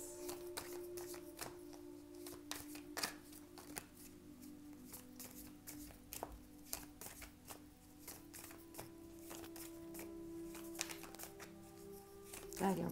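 Oracle cards being shuffled and drawn during a tarot-style reading, a series of quick papery riffles and flicks, close and quiet, with a soft voice murmuring in places.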